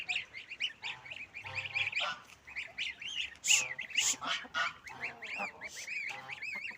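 Several geese honk loudly and close by, outdoors near a vegetable garden, overlapping calls in uneven bursts with a few higher chirps mixed in.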